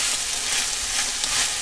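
Minced meat sizzles steadily in a pan, a constant bright hiss with faint crackle and occasional stirring, nothing else heard.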